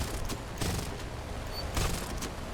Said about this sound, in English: you can hear the clicks of the gun, and you can also hear the whining of it